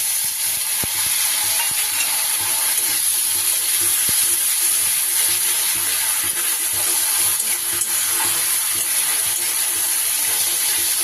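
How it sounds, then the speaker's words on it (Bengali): Onion and tomato paste fries in a pan over already-browned onions, a steady, bright hiss of sizzling throughout, close and even with a few faint clicks. "এবার আমি এর উপরে পেঁয়াজ আর টমেটো বাটাটা দিয়ে দেব।"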